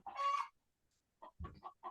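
Chickens cluck outside a window, faint and somewhat distant: one longer squawking call, a pause of quiet, then a quick series of short clucks.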